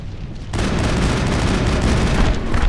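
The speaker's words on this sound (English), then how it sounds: "Oh yeah, he has a missile cannon." A missile cannon in the video game Mass Effect goes off with a sudden loud blast. It turns into a dense, sustained roar of explosions and gunfire-like booms that carries on to the end.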